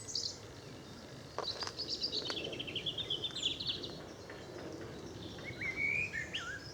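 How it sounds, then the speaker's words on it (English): Birds sing along the edge of a Hertfordshire woodland in June: robin, song thrush, blackbird and chiffchaff, heard as scattered high chirps and short trilled phrases at moderate distance over a soft outdoor background hiss. "I've heard robin, song thrush, blackbird, chiff chaff"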